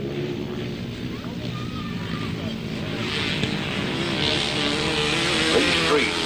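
Two-stroke grasstrack racing motorcycles roar around a dirt oval at a 2003 grasstrack festival, a sustained engine drone swelling slightly as they pass, with a commentator talking over the race.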